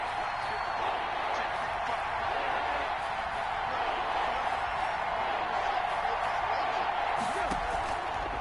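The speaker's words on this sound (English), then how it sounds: "The crowd getting into it as we come up on a big 3rd down." A football stadium crowd roars loudly and steadily ahead of a third down in an Atlanta Falcons game, a dense continuous wall of cheering with no breaks.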